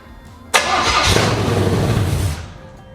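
A 1972 Chevrolet C10 truck that sat for 18 years cranks and fires, catching abruptly and then running roughly and loudly for about two seconds before cutting off.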